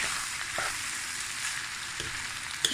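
Rice with mixed vegetables tossed in a hot pan for prawn and vegetable fried rice, giving a steady close sizzle with a few soft scraping stirs, no voices.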